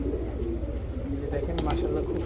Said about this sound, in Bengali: এখানে একটা আইস চেকার দামাসিন নর কবুতর আছে